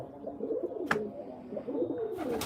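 Pigeons cooing in low, rolling repeated calls close by at a pigeon-keeping loft, with a couple of brief sharp noises in between.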